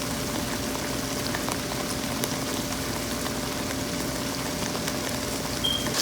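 Potato curry masala sizzles steadily in hot oil in a pan, a dense, even crackle and hiss that holds at the same level throughout, close by with no talking.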